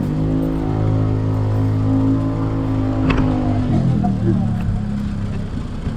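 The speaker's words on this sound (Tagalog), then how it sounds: "Ayan, ito na tayo sa motor." A motorcycle engine drones steadily while the bike is ridden, with a rumbling tone that shifts pitch near the middle. The sound is close and fairly loud, with voices faintly in the background.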